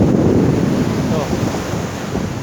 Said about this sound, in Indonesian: Tadi gede ombaknya.